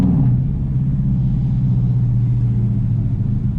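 Deep, steady rumble of a 500 hp Dodge SRT Durango engine, loud and close, holding a constant low drone without speech.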